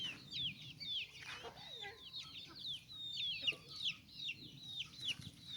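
Chickens on a small farm where ducks are also kept cluck and chatter in rapid, overlapping bursts. The calls are steady and fairly faint against a quiet rural background.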